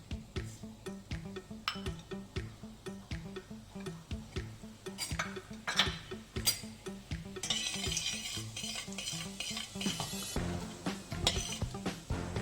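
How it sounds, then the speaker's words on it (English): Whole coriander and cumin seeds hitting a hot pan and stirred, steady ticking clinks and light sizzling with a rhythmic scrape of a spoon, growing brighter and busier toward the end. "Now we're going to add coriander seeds and cumin seeds."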